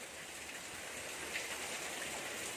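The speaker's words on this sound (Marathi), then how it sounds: "पाऊस थांबूच नाही" Steady rain falls with an even, continuous hiss, fairly soft and unbroken throughout.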